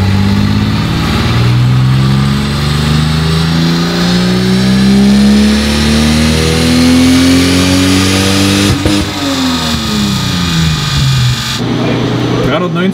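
A Toyota Supra accelerates hard in fourth gear on a measurement run, its engine rising in pitch through a long loud pull, then dropping briefly as revs fall and the pull resumes.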